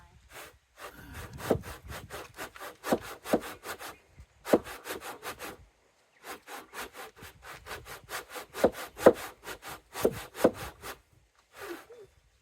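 A handsaw works through wood for a driveway gate in steady back-and-forth strokes, coming in three bursts with short pauses between, close and fairly quiet.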